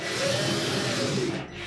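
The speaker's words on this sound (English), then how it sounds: "we'll install one of the mounting screws" Mounting screw being driven into a Whirlpool dryer front panel with a power driver, a short continuous whirring grind, close and steady, with no talking.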